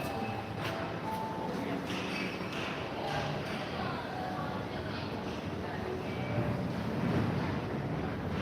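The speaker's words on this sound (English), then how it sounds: "a bit windy." Wind blows outdoors at night in Gran Canaria, a steady low rumble buffeting the microphone, with faint voices and background noise.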